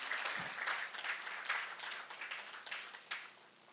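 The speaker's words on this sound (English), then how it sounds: "I thought that the Ugandans would clap for our visitors." Conference audience applause at an African pension supervisors' meeting in Uganda, a light, scattered clapping from a crowd that thins and fades over a few seconds.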